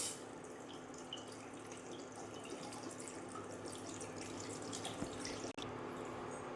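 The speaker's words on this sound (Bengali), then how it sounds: "তাই আমি এখানে দিয়ে দেবো জল।" Tap water runs steadily into a cooking pot to be heated for boiling rice for Bengali-style vegetable fried rice, a continuous close splashing stream with a few small drips and clinks, no talk.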